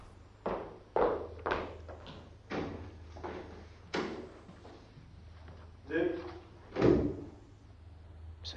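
Door effects in a Moroccan radio detective drama: a series of knocks and thunks, then a creaking open and a heavy close near the end, fairly close and distinct over a low steady hum.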